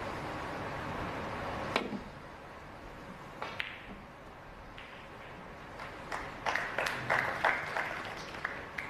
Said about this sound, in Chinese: 艾伦绅士的鞠了一躬，感谢球迷给他送上的热烈掌声